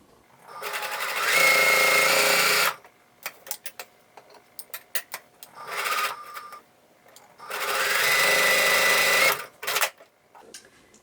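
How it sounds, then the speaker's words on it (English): Sewing machine stitching quilt pieces along a drawn line, running in two long, loud bursts of rapid mechanical whirring, with short clicks and a brief run between them. "sew on both sides of the drawn line"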